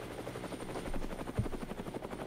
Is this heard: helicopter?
yes